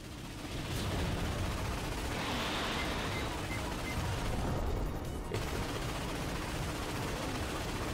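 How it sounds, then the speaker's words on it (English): Continuous missile fire and explosive rumbling in the Ratchet and Clank PS4 game, a dense roaring barrage of launches and blasts that holds steady and loud throughout. "This one is shooting a lot of missiles"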